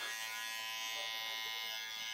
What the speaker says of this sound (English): Now I'm going to use my trimmer upside down.